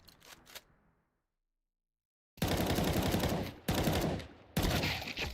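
Rapid gunfire in a competitive video game match plays as dense automatic bursts, loud and close, with a brief quiet gap before sustained volleys.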